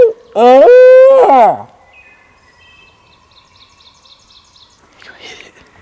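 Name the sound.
hoot owl call imitated by turkey hunter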